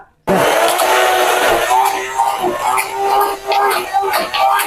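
A blender pulses soaked greens in short bursts, coarsely chopping them for tofu saag in a ceramic jar; the motor whirs loud and close, revving and dipping between pulses, with a voice speaking over it.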